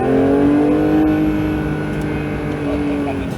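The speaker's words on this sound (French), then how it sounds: "Et là on débraque pour accélérer fort aussi." A Porsche 911 GT3 (992) accelerates hard on a circuit, its engine note a loud, steady, high-revving drone that rises slightly and stays close throughout, with a voice talking over it.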